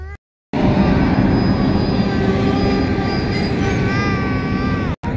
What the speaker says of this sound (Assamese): আমি ৰখি চাই আছোঁ ট্ৰেইনখন অহা